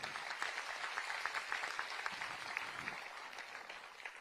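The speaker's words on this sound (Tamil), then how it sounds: "அவர்களுக்கு நம்ம அனைவரும் சார்பாக பாராட்டுகளை கைத்தட்டுகளை தெரிவிப்போம்" An audience at a panchayat award ceremony claps in a dense, sustained patter that stays fairly even, sounding faint and distant throughout with no voices over it.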